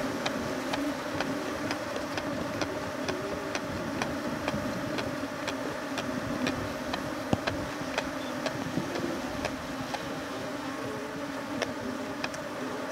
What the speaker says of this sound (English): So meanwhile they are stinging the pan, you need to have a smoker to calm down most of the bees that are trying to attack you.